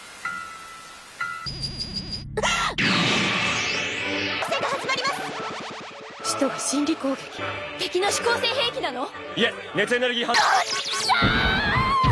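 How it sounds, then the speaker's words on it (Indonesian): An anime character from Neon Genesis Evangelion screams in pain, loud and sustained, over dramatic music and effects, with a long strained cry and breaking, shuddering wails. "Asuka berteriak kesakitan saat Arael terus memasuki pikirannya yang terdalam."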